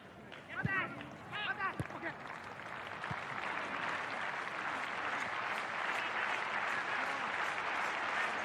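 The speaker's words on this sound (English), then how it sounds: "Crowd again doing their best to get behind FC Tokyo." Stadium crowd at an FC Tokyo versus Nagoya Grampus J.League semifinal match, a distant, steady roar of supporters with rhythmic clapping, brief voices and whistle-like sounds near the start, then a continuous even wash.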